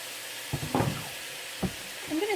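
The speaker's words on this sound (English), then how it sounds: "So I'm going to add in my mirepoix now." Diced mirepoix vegetables hitting extra virgin olive oil in a pot with browning sausage, giving a steady close sizzle with brief stirring bursts and a bit of quiet background voice.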